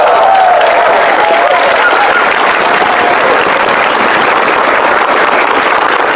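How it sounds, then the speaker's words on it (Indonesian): Loud, sustained applause and crowd cheer from a studio audience greeting Basuki Cahaya Purnama (Ahok) at a Metro TV event, a continuous dense wash of clapping with faint voices mixed in. "Saja beri tepuk tangan yang meriah buat Bapak Basuki Cahayapurnama."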